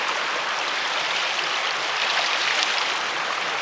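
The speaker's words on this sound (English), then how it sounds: "Now I'm going to take my pan full of water and very slowly, starting from top," Water poured slowly from a gold pan over river bedrock: a steady, fairly loud splashing hiss that runs evenly from start to finish.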